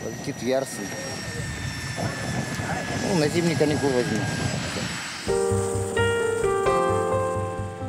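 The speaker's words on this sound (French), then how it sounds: "Après 4 heures de vol, l'hélicoptère rejoint la petite ville de Yarsale." Helicopter flying toward the small town of Yarsale in the Russian Arctic: a steady rotor and engine drone underlies people talking for most of the stretch, then music takes over near the end.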